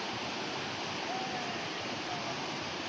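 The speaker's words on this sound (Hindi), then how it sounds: "नदी का बहुत तगड़ा वेग है।" A fast-flowing mountain stream swollen by monsoon flooding roars as a continuous broad rushing wash of water, close and steady, with a voice faintly present under it.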